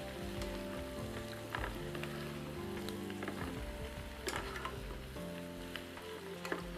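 Spinach sizzles softly in olive oil with onion while a wooden utensil stirs it, giving a quiet, crackling hiss broken by scattered scrapes and taps.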